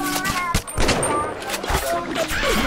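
Gunfire in BioShock, several rapid bursts of shots mixed with game effects and a voice talking over the action, close and fairly loud.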